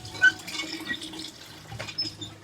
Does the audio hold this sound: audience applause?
no